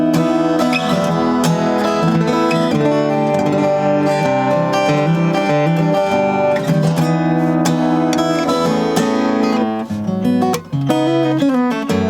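A Blue Lava Original Freeboost 36-inch steel-string acoustic guitar strummed and picked close up, unamplified, bright and full, played continuously with no voices.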